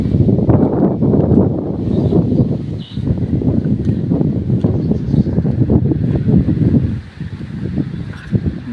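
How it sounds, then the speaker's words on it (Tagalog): Strong wind roars and buffets the microphone in loud, continuous gusts that rise and fall, with no voices. "Lakas ng hangin."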